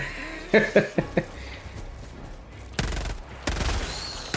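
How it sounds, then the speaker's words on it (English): Autocannon sentry turret in the video game Helldivers 2 fires two long, loud bursts of rapid automatic fire, preceded by a few short, sharp reports, with no talking. "I don't want to be shot by my own autocannon turret."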